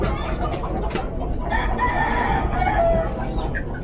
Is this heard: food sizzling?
no